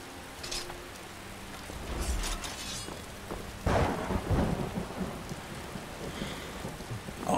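Rain and thunder in a modded Skyrim game: steady rain hiss throughout, with a deep rolling thunderclap about halfway through that rumbles on for several seconds, no voices over it.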